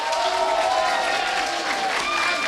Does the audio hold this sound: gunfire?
no